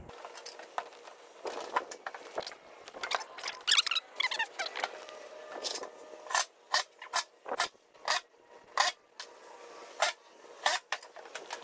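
A power driver zips screws into E-track on a trailer wall, giving bursts of whirring and rasping, then a run of short, evenly spaced buzzes toward the end, close and with no talk.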